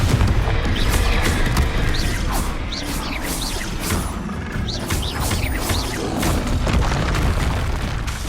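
Spell explosions and magical blasts from the video game Hogwarts Legacy, a dense run of booming impacts, crashes and whooshes layered one over another at a steady, loud level, with no pauses.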